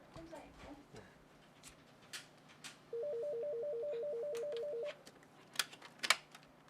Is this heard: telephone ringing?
yes